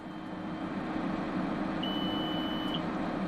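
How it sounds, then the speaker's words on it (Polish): A tractor's cab terminal emits a single steady beep lasting about a second, confirming a stored engine speed setting, heard over a constant low engine drone. "Ciągnik nam za pomocą sygnału dźwiękowego potwierdzi wybranie danej prędkości obrotowej"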